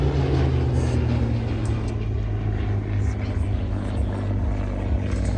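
A Hawker Hurricane, a propeller-driven warbird, flies at an air show display, giving a steady droning engine roar throughout with a low continuous hum beneath.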